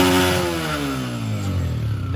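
A Honda CG 125 motorcycle fitted with a smoke kit idles and warms up close by, its steady single-cylinder putter rising slightly in pitch with a continuous, loud mechanical drone and no talk.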